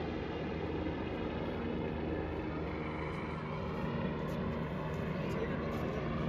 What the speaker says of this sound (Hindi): आप देख सकते हैं हेलीकॉप्टर अभी जा रहा है, ये देखिए।